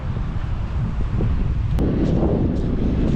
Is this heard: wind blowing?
yes